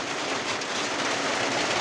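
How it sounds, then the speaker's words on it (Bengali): Heavy night storm rain drums steadily on a tin roof in Niamatpur, Naogaon, Bangladesh, a dense, loud, hail-like continuous patter with no pauses. "শিলা বৃষ্টির মতো জোরে এই যে টিনগুলা শব্দ করতেছে"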